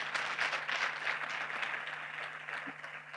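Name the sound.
audience applause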